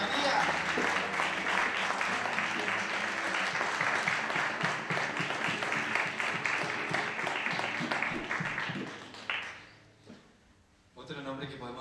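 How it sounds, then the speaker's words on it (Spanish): A church congregation applauding in honour of the Virgin Mary, dense rhythmic clapping that holds strong for about nine seconds before fading out, followed by a voice speaking. "Más fuerte ese aplauso a María."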